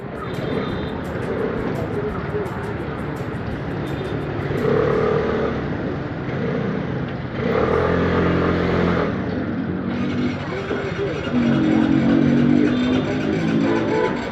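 Aprilia SR150 scooter engine and exhaust while riding in Mumbai, a steady near drone with engine pitch shifting over the ride and traffic around, with a voice heard briefly in places.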